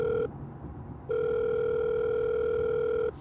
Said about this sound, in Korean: 다시 운전대를 잡은 지희 씨는 무서웠기 때문에 엄마에게 전화를 걸었어요.